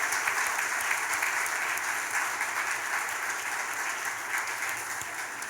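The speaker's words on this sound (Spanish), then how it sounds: "Así que denle un aplauso nuevamente a los papás en este día" A church congregation applauds the fathers during a Father's Day service, steady broadband clapping that stays dense and fairly loud throughout, tapering only slightly at the end.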